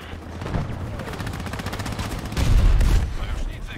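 In the shooter game Battlefield 2042, rapid gunfire rattles continuously, and a heavy explosion booms partway through. The sound is dense and loud.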